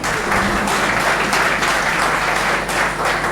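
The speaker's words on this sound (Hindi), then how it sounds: "ओखर बार जोरदार ताली बजा दो" A crowd at a Chhattisgarhi poetry and literature gathering gives a loud, dense burst of applause, steady and continuous throughout with no talking.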